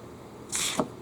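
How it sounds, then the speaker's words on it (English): A NutriBullet blender cup being opened over a sink, giving a short hissing release of air followed by a small soft pop, brief and close. "Open this thing up. We'll hear a little vacuum pop."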